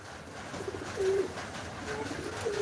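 Pigeons kept as flying birds coo softly and repeatedly nearby over a low background hum.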